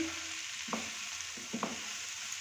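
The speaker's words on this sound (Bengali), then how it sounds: "এবার ঢাকনাটা একটু খুলছি, আবার একটু নেড়ে দিচ্ছি" Butter garlic broccoli with onion is stirred in a pan just after the lid is lifted. A faint, soft sizzle runs under a few light scrapes of the spoon. No one speaks.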